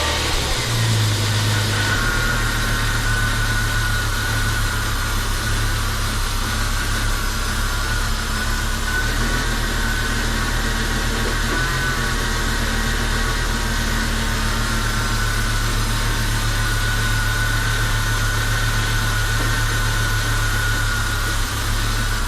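A Jeep Cherokee that sat dormant for eight years idles steadily and close by, its low engine drone and rumble constant throughout with no talking.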